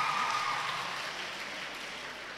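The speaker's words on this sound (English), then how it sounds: "let's give her a round of applause." Audience applause at an evening Divali Nagar cultural program, a soft distant wash of clapping that fades slightly over a couple of seconds.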